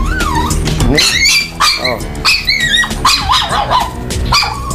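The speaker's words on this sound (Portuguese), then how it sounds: "Tá ouvindo os latidos?" A frightened female dog barking repeatedly at close range, mixing sharp yips and whimpering calls, loud and mixed with someone talking over the barks.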